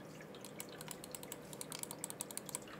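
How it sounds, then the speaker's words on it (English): A lightweight MSI Clutch GM31 gaming mouse gives a quick run of small, crisp button clicks, faint and close, with uneven spacing and no voices. "That's the left click, right click, scroll wheel"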